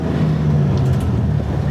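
A 1973 Camaro Z28 RS restomod with an LS3 V8, driven gently while still cold, gives a steady, close low engine rumble that stays level throughout with no talking.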